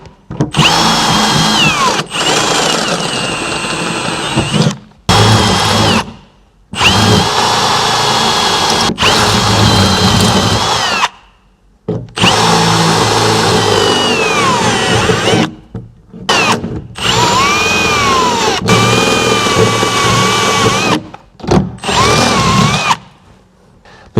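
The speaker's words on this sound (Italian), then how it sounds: "Allarghiamo i fori con una punta a gradini fino ad effettuare una foratura da 9." A power drill with a step bit enlarges holes to 9 mm in a van's metal body. Several loud, close whining bursts rise and fall in pitch and are separated by brief silent pauses.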